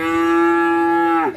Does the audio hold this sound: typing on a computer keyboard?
no